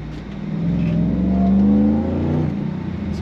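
A car under hard acceleration with its wheels spinning, the engine note climbing steadily with a loud, continuous roar and whine close by.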